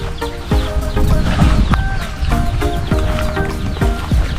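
A black hen with many chicks clucks repeatedly in short bursts with a busy outdoor background, fairly close and steady throughout.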